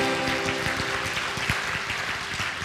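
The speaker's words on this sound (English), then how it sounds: "Give yourselves a big clap, ladies and gentlemen." An audience at a talk claps and applauds together, a dense, steady burst of hand claps that holds at an even level throughout.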